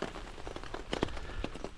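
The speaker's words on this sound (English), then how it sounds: "Hey, the rains have come, but we've got a roof." Rain patters on a roof above a shelter, a dense, close wash of drops with a few heavier taps, steady and without talk over a short stretch.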